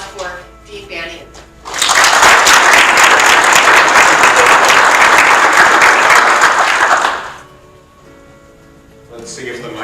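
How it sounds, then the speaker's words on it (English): An audience applauds Dean King Banaian of the School of Public Affairs at a Gears & Gadgets event: dense, steady clapping that swells for about five seconds, with brief talk before and after. "So please join me, a round of applause for Dean Banaian."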